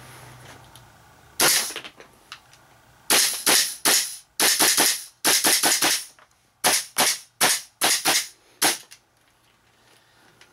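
A custom Magpul M4 airsoft rifle fires semi-automatic, a dozen or so sharp, close cracks, some in quick doubles and triples, with short quiet gaps between bursts.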